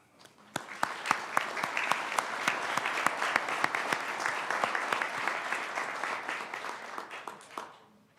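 An audience at a college commencement ceremony breaks into sustained applause, with sharp individual claps at first swelling into a dense, even ovation that fades out after about seven seconds.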